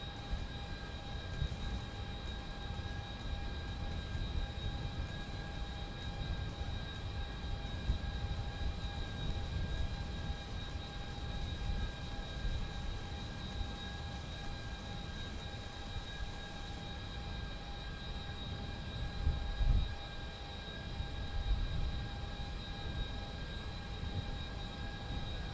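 Aircraft in Kerbal Space Program flying and descending, a steady engine drone and wind roar with constant tonal hum, slightly louder rumbles near the end, no voices.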